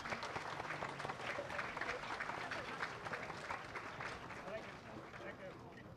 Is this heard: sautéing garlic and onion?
no